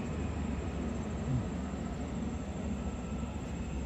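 A train pulling out from the platform at Gijang station in Busan, heard as a steady, broad low rumble and rolling noise that stays fairly even throughout, with no speech.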